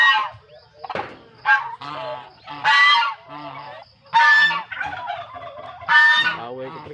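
Two domestic geese fight on a rural farm, trading loud, harsh honks in rapid, uneven bursts close to the listener, with no talking over them.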